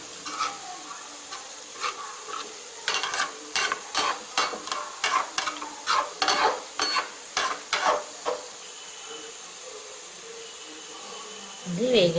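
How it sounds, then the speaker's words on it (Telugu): Karapusa dough is pressed into hot oil, producing a steady hiss with a regular series of sharp scraping, rhythmic pressing strokes over roughly six seconds, then only the quiet sizzle of frying before a brief voice near the end. "ఇప్పుడు ఆయిల్ కాగింది కాబట్టి దీనిలో ఇది ఒత్తుకుందాం"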